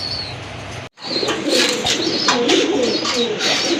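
Pigeons coo softly nearby in low, rolling murmurs, after a brief moment of silence near the start; a pair of large, long-bodied pigeons at a sale.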